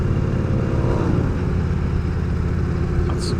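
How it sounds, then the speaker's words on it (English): A motorcycle engine rumbles loudly and steadily nearby on a road, a continuous mid-pitched drone with no talking. "A lot of motorcycles out today."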